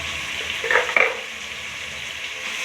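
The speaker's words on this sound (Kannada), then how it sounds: "ಟೊಮೆಟೊ ಹಾಕಿ ಹಾಗೆ ಕಲಿಸ್ಕೊಡ್ಬೇಕು" A spoon stirring tomatoes with turmeric and salt in a hot, oiled frying pan, giving a soft steady sizzle with two short scraping strokes close by, no voices.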